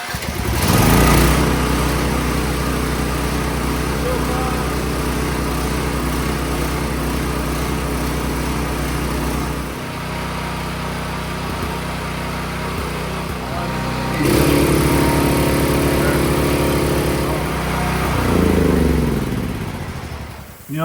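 A Champion 9000 watt generator runs on half choke after starting, its small engine giving a loud, close, buzzing drone that sags for a few seconds partway through, then climbs back to full speed.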